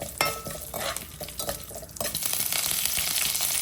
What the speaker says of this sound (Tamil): கிண்டி விட்டுருவோம்